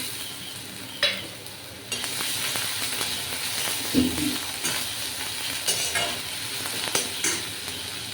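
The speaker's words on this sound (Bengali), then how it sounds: "পেঁয়াজটা ভাজা হয়ে এসছে এবার আমি রসুনটা দেবো" Onion frying in a pan as garlic is added, with a continuous loud sizzle and hiss marked by several sharp scrapes and taps of a spatula stirring the pan.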